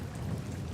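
Rain sound effect with thunder: a dense, steady hiss of falling rain over a low, rolling rumble, heard in one brief, unbroken stretch.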